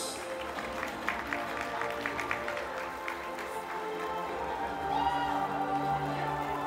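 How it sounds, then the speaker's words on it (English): At an awards ceremony, the audience gives a soft, distant round of applause as a presenter is welcomed on stage, with low background hum and a faint musical tone rising near the end. "A round of applause."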